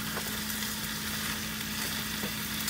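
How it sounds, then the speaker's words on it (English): Carrots and broccoli sizzle steadily in a hot stir fry pan, a continuous close frying hiss with a low hum underneath and a couple of faint stirring scrapes. "Stir it around."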